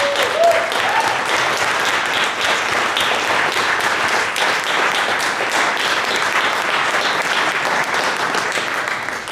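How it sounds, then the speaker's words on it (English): An audience at a short-film panel gives the panelists a sustained round of applause, dense and even clapping that holds steady before easing off at the close. "Can we give everybody a round of applause?"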